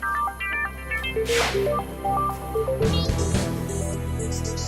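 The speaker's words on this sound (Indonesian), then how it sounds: "HP Siska bunyi mulu" A mobile phone ringtone plays a melodic sequence of short electronic tones over an indoor drama scene, with a whoosh-like burst and a rustling texture partway through.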